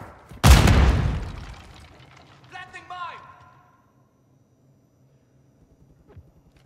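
A grenade blast in the Call of Duty shooter game: one loud, sharp boom that rolls off over about a second, followed by brief in-game chatter and then near silence.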